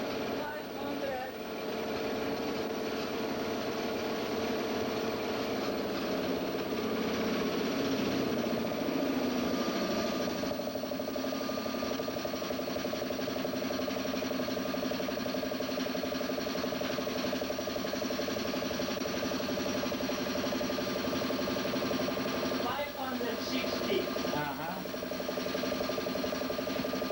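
A Papp engine turns over steadily on a dynamometer test stand at about 1,200 RPM, giving a continuous mechanical hum with ratcheting, geared clatter at an even level and a brief louder burst near the end.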